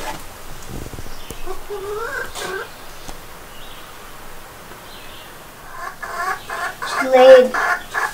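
A hen settled in a hay-lined nesting box clucks and croons in short bursts, quiet early on and louder near the end, close to the listener with no speech.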